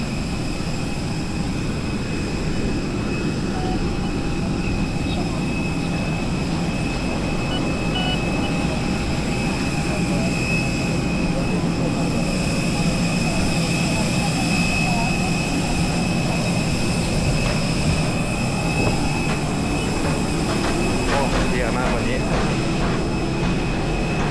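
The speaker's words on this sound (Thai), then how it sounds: "อ๋อเครื่องบินไหม" Airplane jet engine heard from inside the cabin, a loud steady roar with a high whine running throughout, with voices speaking now and then over it.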